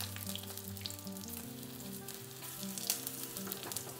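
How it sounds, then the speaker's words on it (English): Aubergine slices sizzle steadily in hot oil in a pan for an aubergine wrap, a continuous close frying crackle with a low hum beneath and a brief louder pop near the end. "And I'm going to start frying them. Ooh, can you hear that? When you hear it sizzling like that."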